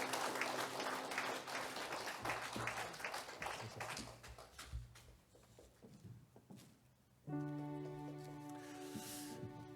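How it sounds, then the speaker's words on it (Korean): Applause from a church congregation at the close of a Sunday worship service, a dense patter of many hands that swells and fades over several seconds, followed by sustained organ or keyboard chords. "다시 한번 큰 박수로 축복해 주시기 바랍니다"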